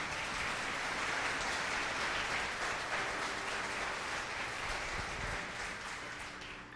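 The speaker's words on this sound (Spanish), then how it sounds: "Dale un aplauso al Señor por eso." Steady, dense applause from a church congregation during a Spanish-language worship service, sustained and fairly loud throughout before easing slightly near the end.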